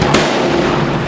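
A single loud, close rifle shot from a Sako S20 in .308, a sharp crack near the start that decays quickly over open ground.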